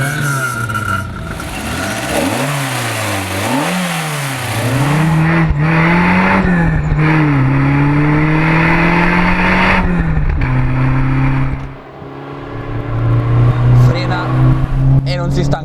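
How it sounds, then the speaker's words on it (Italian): Fiat Ritmo Abarth 130 TC with its 2000 twin-cam engine and twin double-barrel 40 carburettors revs hard and climbs through the gears, a loud rising engine note with brief shift dips, close and under a voice. "Il motore 2000 bialbero da 130 cavalli spinge la Ritmo a sfiorare i 200"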